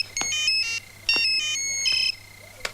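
An electronic phone ringtone plays in short melodic bursts, repeating three times with brief gaps, clear and close.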